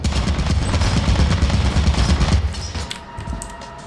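Rapid turret gunfire from the video game Lethal Company rattles loudly as a dense, continuous burst for nearly three seconds, then cuts out, leaving a quieter tail of scattered game noise.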